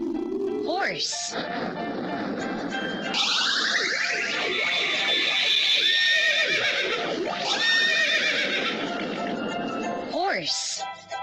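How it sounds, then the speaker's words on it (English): A horse neighs in long, loud whinnies with rising and falling pitch, repeated several times and processed with echo-like effects, standing alone without talk. "Horse."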